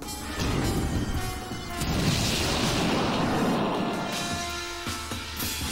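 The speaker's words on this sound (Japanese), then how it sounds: "そして大爆発。" A big explosion erupts during a battle in the video game Suikoden V, a sustained broadband crash and rumble that swells around the second mark and lingers for several seconds amid game effects.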